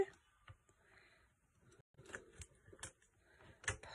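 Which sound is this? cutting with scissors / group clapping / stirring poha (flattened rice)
cutting with scissors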